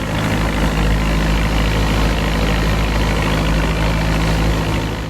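A fishing motor boat's engine, a pompong, crossing open sea, heard as a loud, steady low drone that holds constant throughout with no voices.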